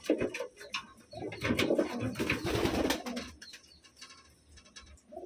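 Wantai pigeons coo in low, throaty, repeated warbles, close by, with several overlapping calls and soft rustling in between.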